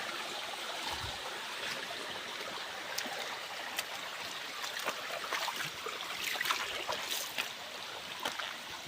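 A creek flows by an irid-fringed bank, washing steadily with a soft broadband gurgle and occasional trickles and splashes close by, and no voices are heard.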